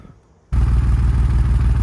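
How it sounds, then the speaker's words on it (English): The exhaust of a cheap older Porsche 911 fires up after a moment of near silence, then runs loud and close with a steady, throbbing idle. "let me show you the exhaust now"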